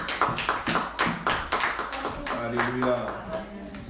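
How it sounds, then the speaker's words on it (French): A church congregation at a French-speaking intercession service claps in praise of God, a dense burst of many hands close by that settles into steadier clapping, with voices singing and calling out over it. "Est-ce qu'on peut acclamer pour la gloire de Dieu?"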